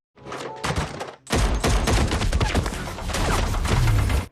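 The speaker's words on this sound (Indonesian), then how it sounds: "Dalam baku tembak ini, Travis menunjukkan kemampuannya." Gunfire in a movie shootout, with a dense burst of shots and impacts crashing in loudly after a brief gap and continuing as a busy, layered barrage.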